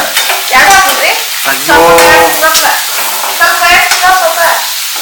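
Onions and tomatoes frying for chicken curry, with loud, close sizzling and repeated stirring scrapes in the pan, crackling in bursts over a steady hiss.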